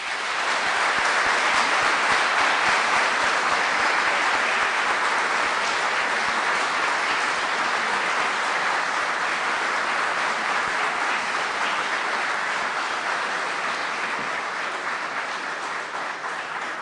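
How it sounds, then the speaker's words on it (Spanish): Sustained audience applause following a speech at a 2011 youth congress, steady dense clapping filling the whole stretch without talk. "muchas gracias por este aplauso"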